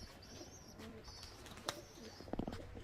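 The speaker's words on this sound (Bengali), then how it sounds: "দেখো পায়রা দুটো ফ্লাই করাচ্ছে" Rampuri high-flying pigeons taking off from a loft, with soft cooing and faint chirps over steady outdoor background noise, a couple of brief wing claps or taps near the end.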